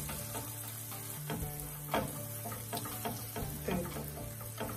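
Butter and sugar caramel sauce bubbling over heat while being stirred, a constant soft sizzle with a low steady hum underneath and occasional scraping strokes of a utensil.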